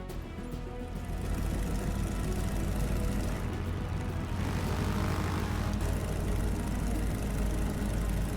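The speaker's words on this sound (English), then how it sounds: "Can you hear me over the engine noise? Cool. It's just the Electra, I have to put it down to about 5 because it's just so loud." Loud, continuous droning of a Lockheed Electra's engines in a flight simulator game, a steady broadband roar with low rumble that holds throughout, close and dominant.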